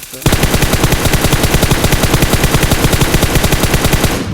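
Automatic rifle spraying in the video game PUBG, a loud, fast, unbroken burst of rapid gunshots running for about four seconds without pause.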